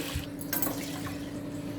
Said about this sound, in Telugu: పప్పుని ఒకసారి కడిగేయాలి